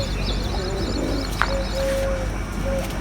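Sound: pigeons cooing in a loft

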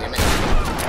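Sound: shotgun firing in the video game Tomb Raider

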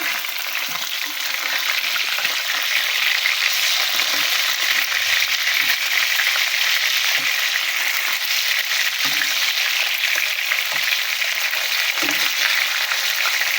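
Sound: fish frying in a pan

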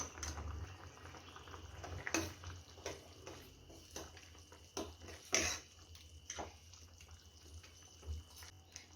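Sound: potato curry boiling in a pot

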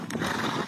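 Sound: carriage horse, a mare, neighing

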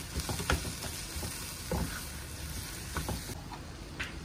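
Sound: frying Chinese pakora mixture in a pan

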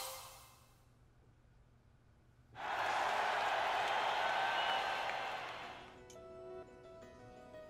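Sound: crowd cheering in a video game

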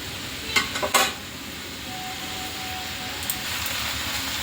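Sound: chicken kosha being stir-fried in a pan

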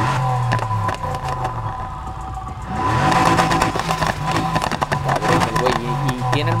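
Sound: car engine starting in Need for Speed Heat video game

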